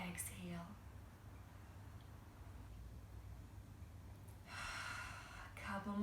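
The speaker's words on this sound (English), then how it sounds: "Take your hands on your heart and take 4 deep breaths. Deeply. With a big exhale." A person takes deep breaths with big exhales during mat Pilates, soft breathy rushes of air close to the mic that rise at the start and again near the end, with quiet room noise between and no talk.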